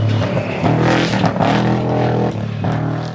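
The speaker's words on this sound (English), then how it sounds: "It's a trophy truck racer, dude." A trophy truck race vehicle roars through the desert near Barstow, its loud engine rising and falling as it revs and drives past close by, with the noise steady throughout.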